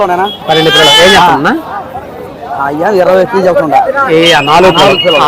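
Goats bleating repeatedly, loud and close, amid the busy chatter of a crowd talking over them at the Gudur goat market.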